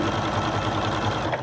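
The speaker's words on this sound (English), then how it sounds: "Just stitching." A sewing machine stitches a pillow cover in a rapid, even mechanical chatter, close and steady throughout the short stretch.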